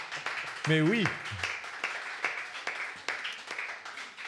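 Audience applause at a live French comedy show, steady clapping with scattered laughter running throughout, a brief voice breaking in near the start over the crowd noise.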